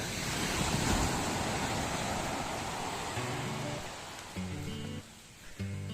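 Sea waves wash steadily onto Bang Sak beach in Thailand, a continuous loud rushing surf with wind. Faint tonal sounds enter near the end.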